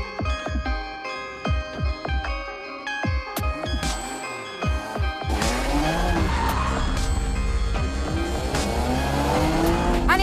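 A Porsche Boxster Spyder driven hard around a race track, with loud engine revving through repeated gear changes, rising and falling pitch, then sustained high-revving acceleration and tire squeal, close and continuous.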